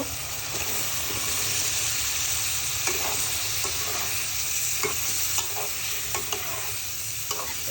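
Potatoes and pointed gourd frying with prawn masala in a pan, a constant loud sizzle with occasional stirring scrapes and clinks running throughout.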